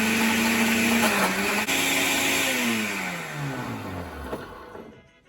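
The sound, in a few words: blender blending coconut milk at medium speed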